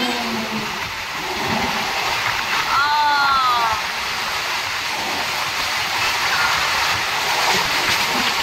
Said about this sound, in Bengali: ট্রেনের সাইডে আওয়াজ হচ্ছে